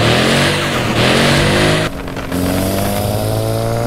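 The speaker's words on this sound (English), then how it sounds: "Listen to that turbo whistle." A car engine revving in the Car Parking Multiplayer video game, heard from inside the car on a first-person drive, with a steady loud drone, rising tonal whine and a brief dip in level midway.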